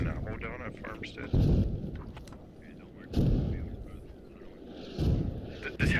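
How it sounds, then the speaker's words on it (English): Artillery shells pound a spawn hab near a farmstead in the Squad video game: three heavy, rumbling blasts land about two seconds apart, each booming and then fading, with a low rumble in between. "This hab getting shelled"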